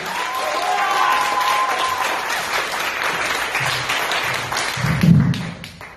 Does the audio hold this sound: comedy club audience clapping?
yes